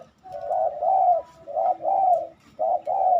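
Spotted dove kept as a trained caged bird giving soft, repeated coos in three close phrases with short pauses between, near and clear, with no talk over it.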